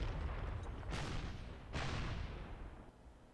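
Artillery firing in Panzer Corps, two heavy booming blasts about a second apart, each with a sharp onset and a long rumbling decay, fairly faint overall.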